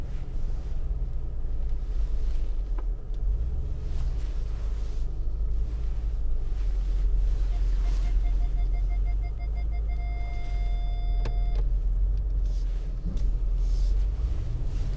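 Mercedes G500 AMG reversing in snow, a low steady engine rumble heard from inside the cabin, with a brief beeping tone partway through and no talk.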